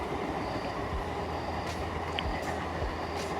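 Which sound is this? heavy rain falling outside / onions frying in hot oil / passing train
passing train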